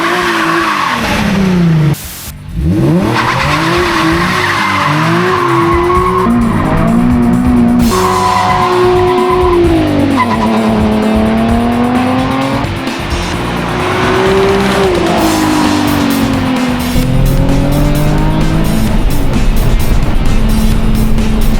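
A Nissan 370Z drifts on a dry mountain road, its tires squealing loudly and almost without a break over a revving engine, with pitch sweeping up and down through the slides.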